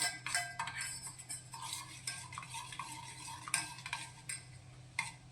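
Spoon stirring a pinch of turmeric into melted soap base, irregular scraping and light clinks against the container, close and fairly quiet, with no voices.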